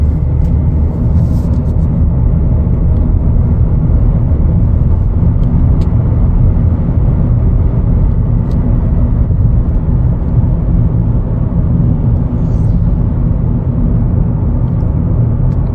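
A 2025 Chevrolet Equinox LT FWD with only 57 miles driving on the road, heard from inside the cabin as a loud, steady low engine and road rumble without talk.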